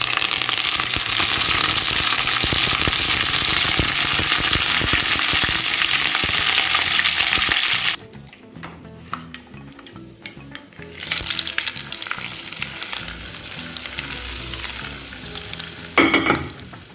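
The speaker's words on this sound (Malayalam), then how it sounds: "ഇനി നമുക്ക് അതിലേക്ക് കടുകും വേപ്പിലയും വറ്റൽമുളകും ഇട്ട് കൊടുക്കാം." Mustard seeds, curry leaves and dried chillies crackle loudly in hot coconut oil for a bitter gourd kichadi, an intense close sizzle that drops suddenly partway, then returns with popping and a brief loud burst near the end.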